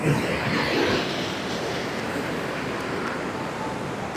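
A broad, steady rush of a mountain waterfall roars continuously at close range on the Kanchenjunga north base camp trek, with no other distinct sounds standing out.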